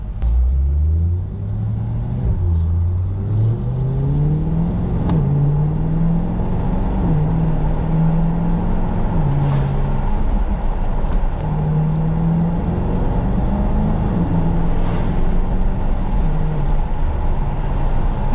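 A 2020 C8 Corvette with the 5VM carbon fiber package revs steadily under load, its engine note rising and falling through repeated throttle swells, with faint exhaust pops barely poking through the continuous close rumble.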